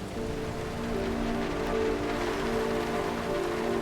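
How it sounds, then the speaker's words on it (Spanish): Steady rain falls continuously in Road 96, a dense, even wash of drops on surfaces heard up close with no voices over it. "voy andando con la lluvia"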